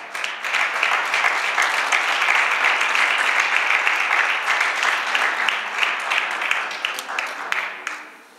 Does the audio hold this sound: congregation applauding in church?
yes